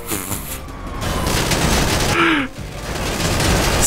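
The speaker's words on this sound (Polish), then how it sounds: "Strzela mnie!" Gunfire aimed at the player's car in Grand Theft Auto crackles in loud, close bursts, with a short booming hit midway and brief dips between volleys.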